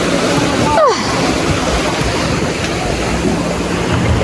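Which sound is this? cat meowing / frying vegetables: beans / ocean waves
ocean waves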